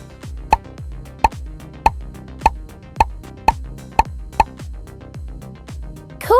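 Cartoonish bubble pops from a children's number-tracing game, about ten short bright plops in a steady rhythm roughly every half second, clear and close, ending with a rising chime.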